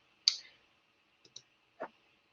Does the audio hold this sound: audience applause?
no